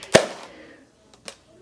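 A modified, overpowered Nerf gun fires a ball indoors: one sharp loud pop with a short decaying tail, then a fainter knock a second later as the ball bounces across the room.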